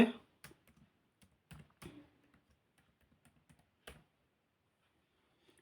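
Sparse keystrokes on a computer keyboard while details are entered into an online registration form: a few loud clicks at first, then scattered light taps. The typing is close and there is no talking.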